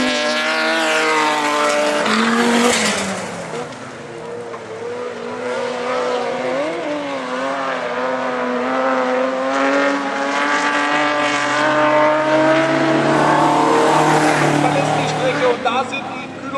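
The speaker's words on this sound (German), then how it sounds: "Ein Audi V8 ist es ja." An Audi V8 race car roars at an autocross event, its engine note rising and falling through gear changes and revs, loud and close, with a commentator's voice over much of it.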